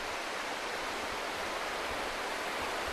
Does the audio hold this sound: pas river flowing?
yes